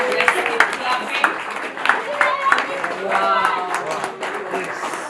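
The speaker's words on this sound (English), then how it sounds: "Let's keep clapping." Audience clapping at a graduation ceremony, a scattered round of hand claps from a small crowd lasting several seconds, with a voice exclaiming over it.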